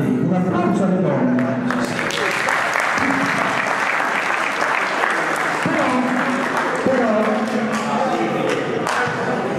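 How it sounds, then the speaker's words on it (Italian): A congregation applauds the women during a priestly ordination service, with steady, dense clapping filling the church for the whole stretch and a few thuds and voices mixed in. "un applauso alle donne"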